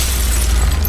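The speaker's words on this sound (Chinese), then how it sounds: "灯泡爆炸了。" A light bulb bursts in a thriller movie effect. It is a loud, close, sub-second blast with a deep boom and a rough noisy shatter that fills the whole clip.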